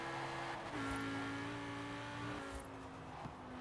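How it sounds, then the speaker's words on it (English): A 2014 Lamborghini Huracan in Forza Horizon 4 cruising toward the festival drag strip, its engine humming steadily with a few gear-change shifts in pitch, moderately loud and with no voices. "we're bringing our Lamborghini Huracan up to the festival drag strip so we can see how fast it is"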